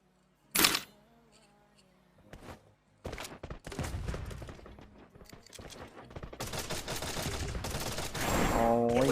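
Gunfire in the mobile game Free Fire: bursts of sharp shots and rapid automatic fire, sparse at first and then denser and louder toward the end.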